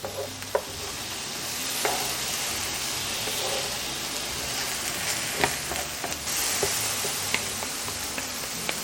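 Carne asada and onions sizzle steadily in a hot pan, a continuous frying hiss with occasional sharp pops and scrapes as the meat is stirred and moved around, close and fairly loud with no talking.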